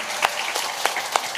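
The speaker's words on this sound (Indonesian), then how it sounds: "tepuk tangan kangge Bu Gemi" Applause for Bu Gemi during a lively Javanese Limbukan comedy segment, a few distinct claps standing out over a steady broadband patter of hands, brief and moderately loud.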